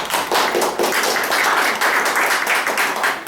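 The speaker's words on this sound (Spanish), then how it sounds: "un aplauso" Audience applause after an introduction at a Spanish-language talk, a steady dense wash of clapping from many hands that holds for about three seconds without speech.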